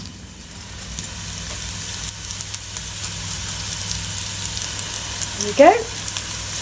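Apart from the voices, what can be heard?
minced garlic frying in a pan with onions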